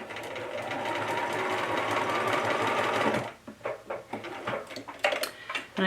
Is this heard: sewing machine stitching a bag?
yes